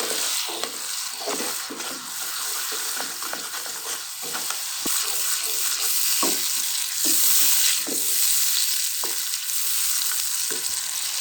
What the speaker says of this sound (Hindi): अभी थोड़ी सी धीमी आंच से थोड़ी दरमियानी आंच कर लेंगे और हल्के हल्के मसाले भूनेंगे,